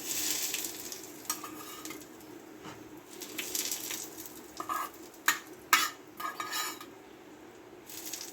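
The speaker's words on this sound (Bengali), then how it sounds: "চাটনিটাতে আমি কারিপাতা লঙ্কা সর্ষেটা দিয়ে দিলাম" Curry leaves, chilli and mustard seeds crackle and sizzle in hot oil as a tempering for chutney, a steady frying hiss broken by spitting pops and clinks of a spoon against the pan.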